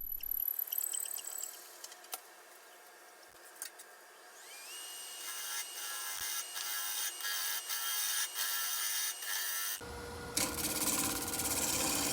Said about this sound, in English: I'm using a Forstner bit to drill a clearance hole